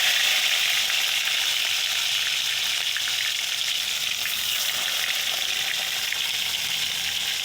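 Tomato frying in hot oil in a kadai, a loud, dense, continuous sizzle with no breaks.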